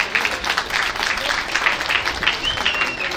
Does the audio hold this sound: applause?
yes